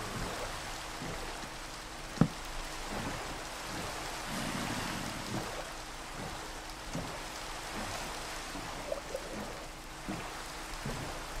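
Steady rain in the video game Minecraft hisses softly as a continuous even wash, with faint scattered drip-like ticks and occasional small clicks underneath, no voices.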